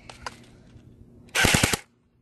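Burst of rapid gunfire aimed at an iPod, several loud close shots in quick succession lasting about half a second, after a faint quieter stretch.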